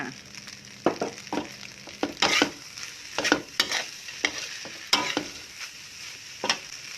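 Tamarind chili paste fried rice stirred in a pan, the spatula scraping in irregular bursts of clatter over a soft, steady sizzle, close and moderately loud with no voices.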